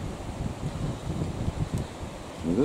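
Strong gale wind buffets the microphone outdoors, a steady low rumbling roar with gusty rustle throughout, while a heron struggles nearby; no voices.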